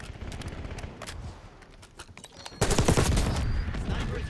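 Rapid gunfire in the Call of Duty Black Ops 6 video game: scattered shots first, then a loud sustained burst of automatic fire, with faint game voices in the background.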